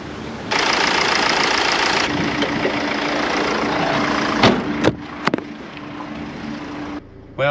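A van's engine idles with a steady, mid-pitched rumble that continues for several seconds, interrupted by a few sharp clicks and knocks near the end before it cuts off.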